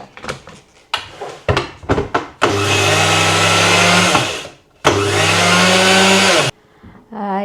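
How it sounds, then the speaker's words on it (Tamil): A mixer grinder blends soaked rice and flour into appam batter, its motor roaring loud and close in two long bursts with a pause between, after a few short clattering knocks and brief pulses. "நான் இப்போ எல்லா குறுனி போட்ட மாவையும் போட்டுட்டு இதுக்கியே போட்டுட்டு எல்லாத்தையும் சேர்த்து நல்ல வடிவம் மாவாக அடிச்செடுக்க போகிறேன்"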